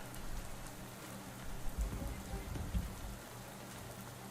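Steady rain falling on a farm in the video game Shadows Over Loathing, a dense even patter with soft low thumps, moderate and continuous throughout.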